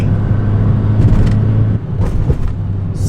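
A VW GTI engine is warmed up with a low, steady close rumble and short revs, and its note drops partway through.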